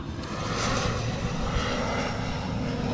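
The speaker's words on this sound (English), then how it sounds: "I guess we got a plane flying over here." An airplane flies overhead above a creek at Hilton Head Island, a steady loud engine roar filling three seconds with no talking.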